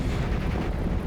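Continuous rumbling barrage of mortar and artillery fire in Steel Division: Normandy 44, dense overlapping low booms with no clear separation between shots, loud and sustained through the moment.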